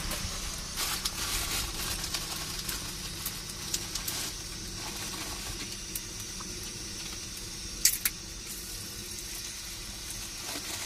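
Panch phoron, dried red chilli and bay leaf hit hot oil in a pan, giving a steady, fairly faint sizzling hiss with a few sharp crackles and pops near the end, with no one talking.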